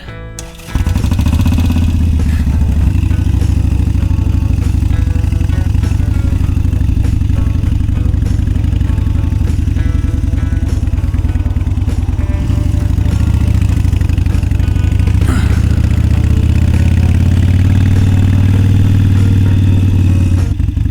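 A Harley-Davidson Iron 883 motorcycle is ridden on Route 66 in misty, rainy Texas weather. Its V-twin engine gives a loud, steady, close throb with slight shifts in revs while the bike cruises, and no one talks.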